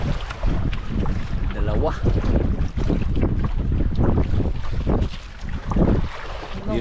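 Strong sea wind buffets the microphone on a fishing boat, a loud continuous roar with water sloshing underneath and a brief spoken word.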